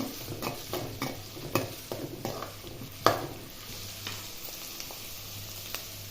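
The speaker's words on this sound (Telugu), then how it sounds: "సన్నగా తరిగిన పచ్చిమిర్చి ముక్కలు వేసి బాగా వేగనిద్దాము" Finely chopped green chillies fry in a pan with a low steady sizzle, broken by sharp spatula taps and scrapes against the pan at irregular intervals, close by and without speech.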